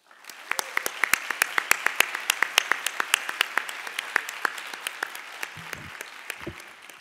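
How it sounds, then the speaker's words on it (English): A lecture audience gives a round of applause for the event's sponsors: scattered, crisp individual claps close by that thin out and fade toward the end, with a few low murmurs. "Please join me in giving them a tremendous round of applause."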